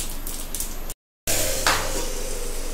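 Hot oil sizzles and crackles loudly in a pan, with a brief dead gap, then a burst of spattering as spices hit the oil for an Indian tadka tempering.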